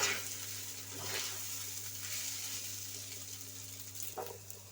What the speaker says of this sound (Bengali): চালটা দিয়ে দিয়েছি, এখন কিছুক্ষণ চালটা ভাজা নিব